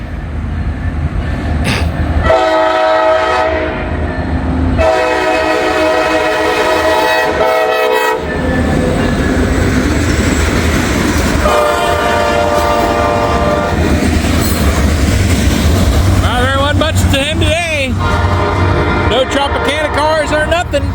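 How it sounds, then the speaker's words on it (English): A freight train with Tropicana cars passes close by and sounds a loud horn salute in several long blasts, over steady rumbling and clickety-clack wheel noise. "Got a nice horn salute from them and everything."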